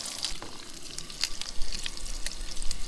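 Bacon sizzling fast in a pan over a fire beside a creek, a close, steady crackle with scattered sharp pops.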